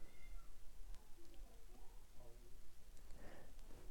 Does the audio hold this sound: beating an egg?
no